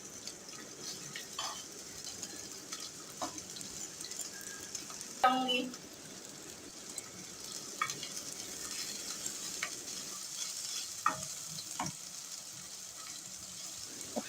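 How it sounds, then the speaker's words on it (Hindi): Thinly sliced onions hitting hot oil and being spread and stirred, a soft continuous sizzle with scattered utensil scrapes and one louder clank near the middle, fairly quiet and close. "ऑयल के अंदर हम इसे शामिल कर देंगे। अच्छी तरह से हम प्याज को फैला देंगे।"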